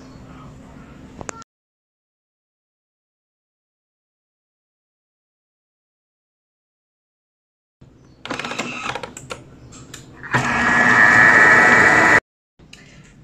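A Thermomix whirs at speed 4 while mixing beignet batter of whole egg and a pinch of salt, a short, loud, steady motor burst following clicks and quiet button presses.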